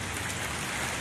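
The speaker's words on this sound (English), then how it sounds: "Heavy rain on my greenhouse right now," Heavy rain drumming on a greenhouse with water dripping, a dense, steady hiss that stays close and even throughout, with no voices.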